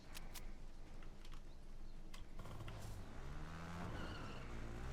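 A motorbike engine in the video game Fortnite drones steadily through the clip with loud, dense roaring noise and sharp clicks, the pitch shifting near the end as it revs.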